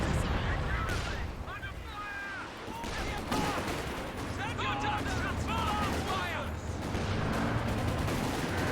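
A Katyusha rocket barrage in the World War II strategy game Company of Heroes 2: a string of loud blasts and crackling explosions rolls on over several seconds, with a commentator talking over the noise.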